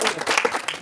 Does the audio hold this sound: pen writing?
no